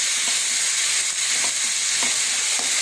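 Tomatoes and spices with turmeric powder sauté in a hot pan for a Chettinad crab and prawn gravy, giving a loud, steady hiss with faint periodic scrapes throughout.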